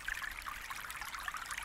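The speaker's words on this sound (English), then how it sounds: "tune into the sound of the flowing stream" A forest stream runs steadily, a soft continuous rushing and trickling of water that stays even and unbroken throughout, with no voices.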